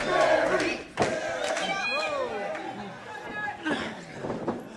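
Fans at an independent wrestling event cheer and shout in bursts around the ring, with thuds from the mat and a commentator talking over the crowd noise.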